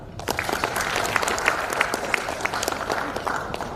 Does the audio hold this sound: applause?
yes